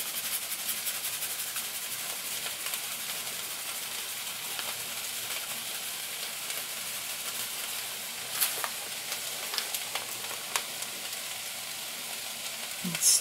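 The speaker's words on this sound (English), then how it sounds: "And stir the vegetables." Vegetables fry in a pan for a vegetarian pasta sauce, with a constant close hiss and sizzle and a few soft scrapes and taps as they are stirred.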